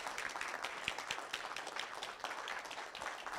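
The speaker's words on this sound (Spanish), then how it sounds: "brindémosle un fuerte y caluroso aplauso al doctor Gutiérrez." An audience claps for a doctor after his presentation, a busy, moderately loud round of applause with distinct individual claps standing out, continuing steadily without talk.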